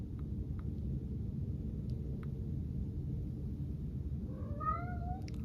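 A house cat gives one short, rising meow near the end over the constant low roar of a historic two-day Upper Peninsula blizzard heard from indoors.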